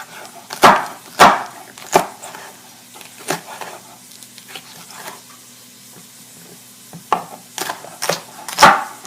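A knife slices through bell peppers on a cutting board for steak fajitas, giving sharp, irregular chopping thuds, some loud and close, separated by brief pauses over a low background hum.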